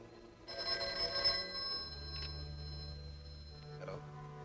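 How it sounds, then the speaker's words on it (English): An old telephone bell rings in a 1949 film serial, a steady electric ring of about three seconds set against a low hum, with a short second burst near the end. "I don't think the telephone bell is working. Will you test it?"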